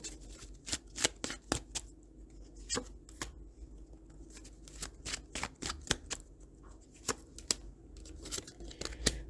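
Tarot cards shuffle and snap crisply at close range, a rapid series of sharp riffles and flicks with brief pauses as cards are drawn, no voices present.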